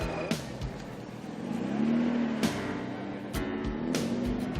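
Vintage cars roll past in a parade through the Finistère countryside, engines rising and falling as each passes, with brief transient clunks and a steady mid-level motor hum.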